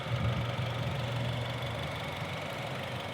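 A 2017 Honda HR-V EX-L with a 1.8-liter i-VTEC four-cylinder and CVT automatic idles steadily, a close, even low hum and drone that continues unchanged for several seconds with no voices over it.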